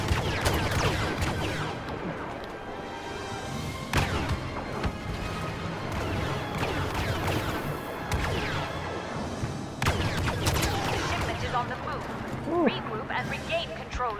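Game gunfire in a hectic shooting match with a T21 weapon, steady booming shots and impacts running throughout, mid-distance and fairly loud, with a voice talking over the fighting.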